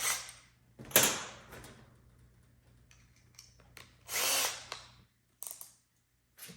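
A power drill runs in short bursts while drilling a screw hole to mount a deer skull, whining loudly for a second or so at a time with quiet gaps and faint handling clicks between.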